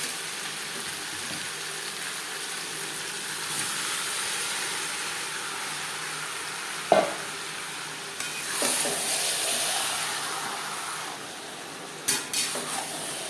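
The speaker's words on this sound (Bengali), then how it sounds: "তিন চার মিনিট পেঁয়াজ হালকা করে ভেজে নেওয়ার পর দিয়ে দেবো ম্যারিনেট করে রাখা মাংস।" Marinated chicken added to frying onions and bay leaves for biryani, a steady broad sizzle in the pan with a few sharp clinks of a utensil against the pot, close and fairly loud, with no talk.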